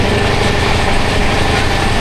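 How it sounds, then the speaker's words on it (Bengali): A train running at speed gives a loud, dense, continuous rumble and rattle, heard from inside the carriage with no pauses or voices. "ট্রেন তো খুব ভালো স্পিডে চলছে"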